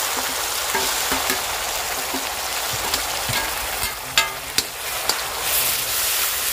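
Onion paste frying in a pan with ginger-garlic paste and chillies, a loud even sizzling hiss up close, broken by a few sharp spatula taps and scrapes near the end.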